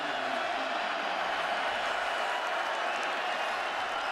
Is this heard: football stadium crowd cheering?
yes